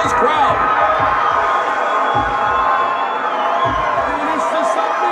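A big MMA arena crowd roars steadily through a tense submission attempt in the Eddie Alvarez vs. Gilbert Melendez fight, dense cheering and whoops at high level with voices blending in the din.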